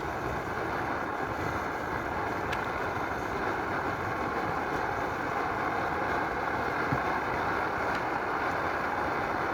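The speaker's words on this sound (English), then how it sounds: "the noise from the stove is probably screwing up the video for you guys" A camping stove burner roars steadily, a loud, constant jet-like hiss that fills the whole stretch without pause.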